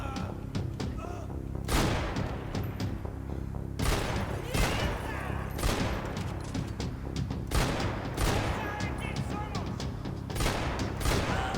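Guns fire in Max Payne 3, loud repeated bursts and single shots in quick succession with heavy thuds, the exchange continuing throughout while a voice occasionally speaks.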